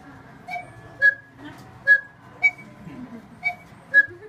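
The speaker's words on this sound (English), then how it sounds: "the cuckoo sound is produced by this little bellows here" The small bellows of a cuckoo clock in Germany sound a repeated two-note cuckoo call, about six clear, close calls at an even pace in an otherwise quiet room.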